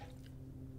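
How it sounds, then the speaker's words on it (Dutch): Wet squishing and dripping of water being drunk in the video game Last Stop, a short close liquid sound lasting under a second over a steady low hum, with no talking. "Water drinken."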